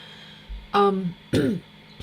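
A woman at a home craft session coughs and clears her throat, two harsh bursts close to the microphone with a short pause between, followed by a faint catch.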